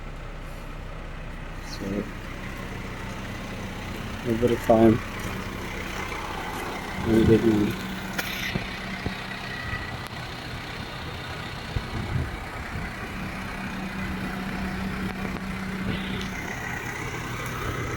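A delivery truck arrives at a camp, its engine rumbling steadily with a few sharp air-brake hisses, while people talk nearby.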